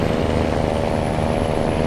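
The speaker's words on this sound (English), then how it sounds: "You want to hear the truck." Truck engine in American Truck Simulator, a loud, continuous low diesel rumble with steady drone and no pauses.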